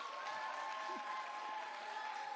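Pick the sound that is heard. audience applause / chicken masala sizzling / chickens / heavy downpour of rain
audience applause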